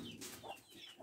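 Chickens in a farm coop give a short, soft burst of clucks and murmurs, close by and without talking.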